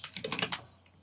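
A quick burst of typing on a computer keyboard, about half a dozen close, crisp key clicks in under a second before it goes quiet.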